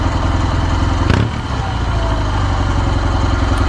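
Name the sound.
Kawasaki W650 motorcycle exhaust with Y1 classic muffler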